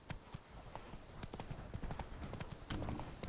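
Hoofbeats of the horse Roach galloping in The Witcher 3: Blood and Wine, a steady rapid clip-clop close by, with faint voices and ambient game sounds underneath.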